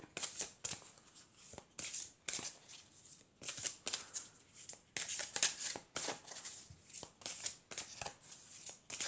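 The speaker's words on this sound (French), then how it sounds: "je vais prendre une carte de murmure de guérison pour avoir un conseil pour aujourd'hui" A deck of Murmure de Guérison oracle cards is shuffled by hand, crisp irregular flicks and riffles repeating close and quiet, with no talking over them.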